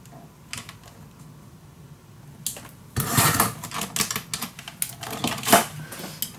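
Paper for a handmade baby mini album is cut with a sharp, papery crunch. It starts quietly, then runs as a dense stretch of close, irregular snipping and crackling over the second half.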